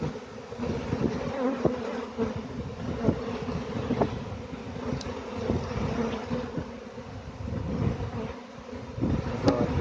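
Giant swarm of honeybees buzzing densely and continuously at close range as a hive is being moved, a thick steady drone with no talk.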